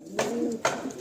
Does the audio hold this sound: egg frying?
no